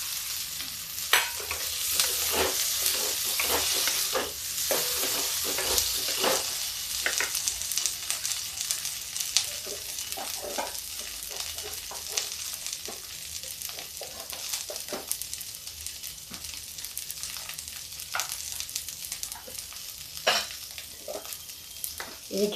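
Potatoes sizzle and fry in a pan with onions, a continuous crackling hiss broken by frequent scraping and clattering strokes as they are stirred, with no talking.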